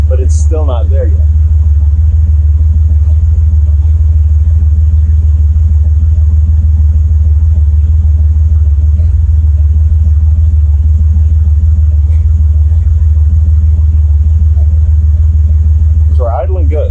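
Buick Grand National engine at idle around 750 rpm, a loud, steady low rumble that holds even throughout, with brief faint sounds near the start and end.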